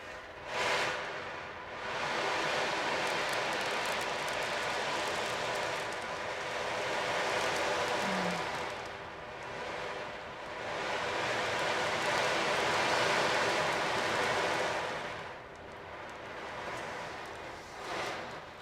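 An ocean drum filled with tiny ball bearings imitates ocean waves as it is slowly tilted, giving long hissing swells that rise and fade in broad surges, close and steady.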